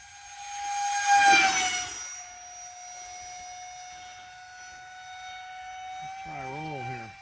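Rabid Models F-104 electric ducted fan model jet flying low, a steady high-pitched whine that swells to a loud pass then holds on as a thinner distant tone, with a warbling electronic tone entering near the end.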